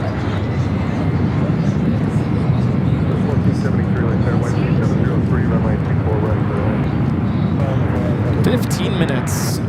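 A 23-year-old Delta Boeing 757 airliner departs LAX on runway 24 left at night, its engine roar a loud, steady broadband rumble held throughout with no break.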